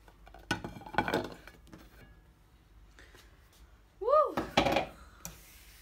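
A baked sponge cake is turned out onto a plate, with a few close clinks and clatters of dish and pan in two short bursts. A voice speaks briefly between and over them.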